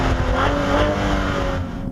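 Cadillac ATS-V with its LF4 engine revving, a steady, dense and loud mechanical roar with a sustained tone, held throughout and easing slightly near the end.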